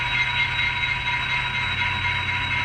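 An On Track Models class 82 DCC sound model locomotive runs with a steady electric hum and whine, a constant close mechanical drone with no breaks or talk.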